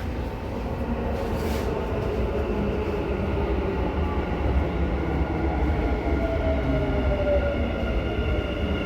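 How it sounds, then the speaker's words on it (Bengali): A Dubai Metro train rumbles steadily close by on the opposite track, a loud continuous roar with a rising whine as it pulls in, and no voices. "এটা আসছে ওই পাশেরটা মেট্রো, যেটা আসছে এটা ওই পাশের মেট্রো"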